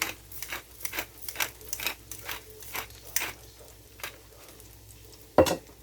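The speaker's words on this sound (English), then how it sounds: "Mix this up well" Mashed potatoes with ranch seasoning and pepper being stirred in a pot, with irregular soft scraping and tapping strokes of a utensil, then one louder clank near the end, and no talking.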